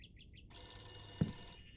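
A telephone rings loudly in a dark room in the horror game The Beast Inside, a sustained bright bell tone starting after faint chirps, with a thump partway through.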